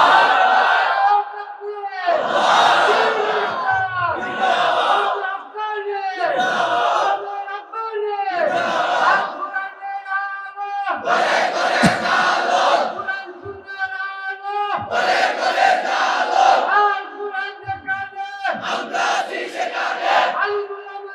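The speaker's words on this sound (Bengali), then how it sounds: "তোমরাই স্লোগান দাও, তোমরাই তাকবীর বলো" A large crowd at an Islamic religious gathering shouts slogans and takbir in unison. About eight loud, rhythmic bursts of massed voices come in call-and-response fashion, separated by short gaps.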